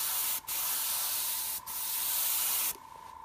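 An airbrush sprays paint in a steady close hiss along the edge of a ruler, broken by two brief pauses, then stopping to leave a faint quieter hiss.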